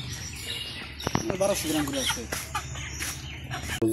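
Farm-bought chickens of about 3.5 kg each, brought home to a village house, give scattered clucks and short calls over background chatter and household noise.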